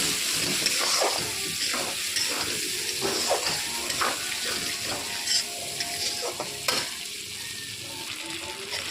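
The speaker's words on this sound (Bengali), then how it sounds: "ডিমগুলো দিয়ে আবার আমি কষাবো।" Fried eggs and potatoes stir-fried in oil in a pan, a steady crackling sizzle with intermittent scraping and clinking from the spoon moving the food, close and continuous.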